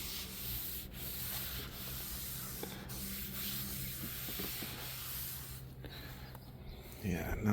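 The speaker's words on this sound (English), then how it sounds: "And then just kind of give it a nice rub down." Steady close rubbing of wax onto a wooden table slide on an INEOS Grenadier, a continuous dry scrubbing hiss with a few brief breaks, ending in a louder knock.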